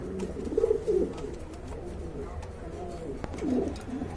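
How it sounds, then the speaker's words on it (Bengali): Beauty Homer pigeons at a pigeon market in Bangladesh give low cooing calls, a couple of soft coos early on and another near the end, over a steady murmur of background market noise. "এক জোড়া বিউটি হোমা কবুতর রয়েছে"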